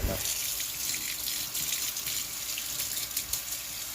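A spoon is rinsed under a running kitchen tap while making cheese, a steady close stream of water flowing throughout, with light splashing and faint clatter as the spoon moves through it.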